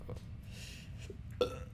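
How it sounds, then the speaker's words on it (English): A short burp, faint and soft, from a person playing a five-dimensional chess game, coming as a brief throaty sound near the end over a quiet room background. "Oh, I got a burp."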